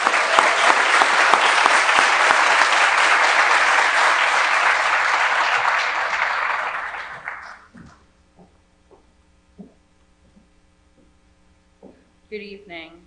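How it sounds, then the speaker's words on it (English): A board of education meeting audience gives a round of applause for presenter Courtney Farrell, dense clapping that fades out after about seven seconds, leaving a quiet room with scattered faint knocks and a brief voice near the end. "Let's give her a round of applause"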